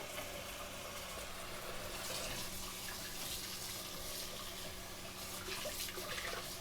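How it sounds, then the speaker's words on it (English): Running tap water rinsing out a cooking pot used for heating cream, a steady close splashing rush that continues without break and without talk. "I'm just going to rinse it out so that we can get the cream heating back up in there."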